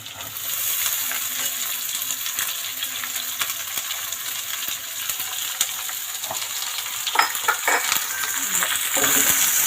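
Chopped onion frying in a pan with chili for a Kerala-style onion theeyal, giving a steady close sizzle with stirring scrapes and clinks throughout, and no voices.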